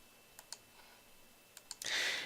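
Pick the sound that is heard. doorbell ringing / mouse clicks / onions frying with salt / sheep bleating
mouse clicks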